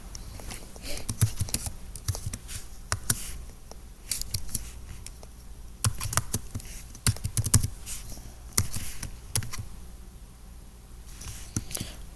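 Typing on a computer keyboard, sharp clustered clicks of keys tapped in quick bursts with short pauses, close and fairly loud, with a voice speaking alongside.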